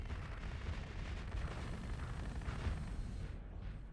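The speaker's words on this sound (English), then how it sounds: "that one is from the Paxim mod, because it uses like some fireworks sound effects" Fireworks sound effects from the Paxim mod in the Starsector space game play as a continuous dense rumble of bursts and booms at a steady, moderate level with no talking.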